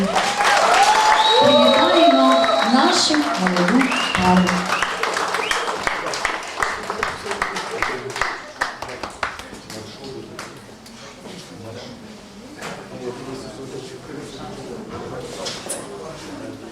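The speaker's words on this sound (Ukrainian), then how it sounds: "І давайте всі оплесками" Wedding guests applaud the newlyweds in a loud burst of clapping that gradually fades, with music playing and a voice speaking over it throughout.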